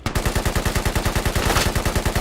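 Rapid automatic gunfire in the military shooter Squad, a steady close burst of evenly spaced shots that keeps going without a break and with no voices over it.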